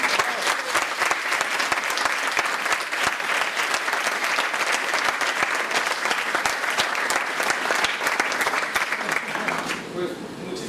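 A large audience at a serial-killers talk in Mérida applauds loudly and steadily for about ten seconds, dense continuous clapping that thins slightly at the very end.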